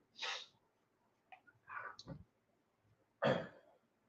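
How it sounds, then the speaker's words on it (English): A person sneezes toward a microphone in a room, with faint breathy snorts and throat sounds leading up to one sharp, close burst near the end. "Sorry about sneezing there towards the microphone."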